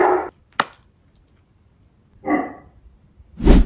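Dogs barking indoors in a few separate loud bursts with silent gaps between, a sharp single yelp near the start and a fuller bark burst at the end, no talking.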